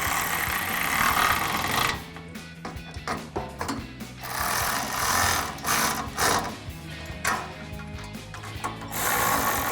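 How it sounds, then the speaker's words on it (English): Barricade HD plate-style front bumper bolts on a 2021-2024 Ford Bronco being tightened by hand with an Allen wrench and a 10mm socket: rapid, close ratcheting clicks in quick rhythmic runs with short pauses, no voices. "grab the included Allen wrench for our bolt side and a 10mm socket for our nut side to tighten these down"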